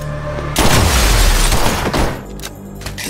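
A loud, heavy boom from a film shootout with gunfire and explosions swells into a dense rumbling blast and then slowly fades.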